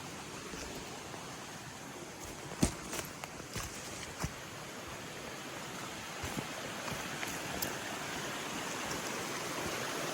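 A creek flows near a small waterfall with a steady broadband rush of water, and a few soft footsteps or clicks sound over the top.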